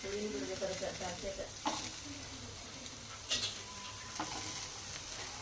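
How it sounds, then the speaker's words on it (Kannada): Onions and green chillies fry in a pan, a constant bubbling sizzle close up with occasional stirring clinks and scrapes throughout, no voices. "ಇವಾಗಿಲ್ಲಿ ಮೆಣಸಿನ್ಕಾಯಿ ಮತ್ತು ಉಳ್ಳಾಗಡ್ಡಿ ಫ್ರೈ ಆಗತ್ತವ ರೀ"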